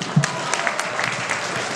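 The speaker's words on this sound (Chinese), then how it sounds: "我们掌声欢迎" An audience at an alumni Lunar New Year gala claps to welcome a guest speaker, with brief steady applause from a crowd indoors and some voices mixed in.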